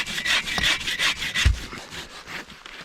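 A hand saw cuts through small trees in the woods, rhythmic back-and-forth rasping strokes, close and fairly loud, with one dull knock partway through.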